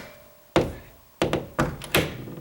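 A door swings shut with a solid thunk as its ball latch snaps into the socket, followed by three more quick knocking closes or latch clicks in close succession, near and clear.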